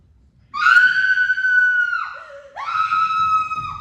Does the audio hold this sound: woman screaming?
yes